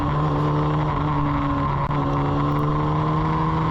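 Formula Ford race car engine droning steadily on the Hampton Downs circuit, a loud, close in-car hum with strong sustained harmonics and a brief dip midway, no talk.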